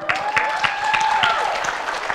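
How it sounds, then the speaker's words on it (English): A seminar audience at a convention gives a short burst of applause, with rapid clapping close by and a voice talking over it. "let's get a round of applause."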